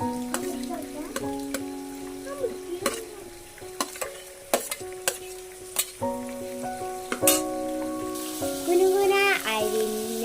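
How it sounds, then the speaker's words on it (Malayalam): Prawns fry in hot oil, with a steady sizzle under sharp clinks and scrapes from a spoon against the pan, close by, with a brief tonal sound near the end. "എണ്ണ ഒഴിച്ച് അതിൽ ചെമ്മീൻ ഇടുക"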